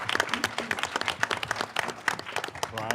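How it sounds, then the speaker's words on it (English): Audience applause for a film director and producer at a documentary pitch event, a dense patter of claps with some voices and cheers mixed in, steady and fairly close throughout. "A big round of applause."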